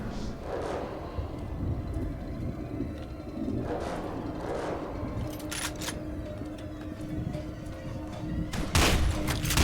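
Gunfire from the video game FEAR 2 Project Origin, with muffled bursts and rumbling shots over a dense, noisy game soundscape, plus a few sharp louder cracks near the end.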